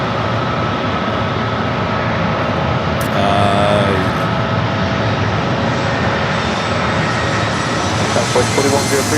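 A British Airways jet at San Diego airport gives off a loud, steady engine roar that holds throughout, with a short tonal swell partway through.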